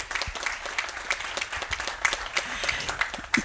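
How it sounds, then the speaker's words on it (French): A small audience at a freelance meet-up gives a brief round of scattered applause, moderately quiet and uneven, with a few sharp claps standing out. "je pense qu'on peut les applaudir aussi"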